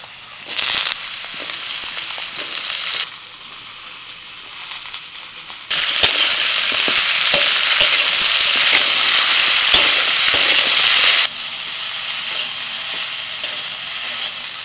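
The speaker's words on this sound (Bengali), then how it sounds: "কড়াই সর্ষের তেল দিয়ে দিয়েছি, তেল গরম হয়ে গেছে, আলু আর পেঁয়াজটা দিয়ে দিচ্ছি।" Potatoes and onions fry in hot mustard oil in a kadai, giving a loud, steady sizzle that surges as the pieces go in and are moved about.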